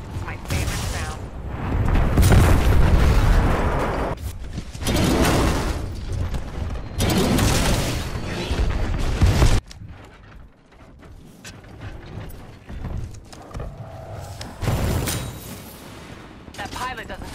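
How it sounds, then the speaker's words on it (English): An enemy Titan blowing up in the shooter Titanfall 2, heavy booming blasts and mechanical clatter rolling through several loud surges, then fading into quieter scattered impacts and rattles. "An enemy Titan exploding. My favorite sound."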